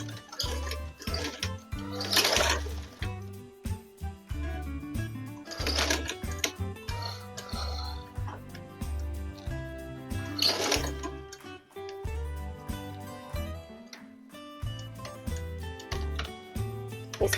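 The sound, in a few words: sewing machine stitching a school bag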